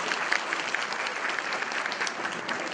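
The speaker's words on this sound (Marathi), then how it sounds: "जरा आपण त्यांच्यासाठी एक जोरदार टाळ्या वाजवूया" Audience at a Marathi public gathering applauding two women activists, dense continuous clapping from a large crowd at a steady level throughout.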